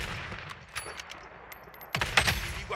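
Bursts of gunfire in the video game Blood Strike crackle at a distance, scattered single shots followed by a louder rapid volley near the end.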